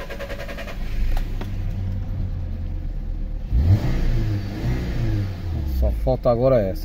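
A 2018 VW Polo TSI whose injection fault has just been cleared, its engine running with a steady mid-pitched hum and a brief rev, heard close, with someone talking over it.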